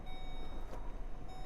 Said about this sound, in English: Van's beeping at me.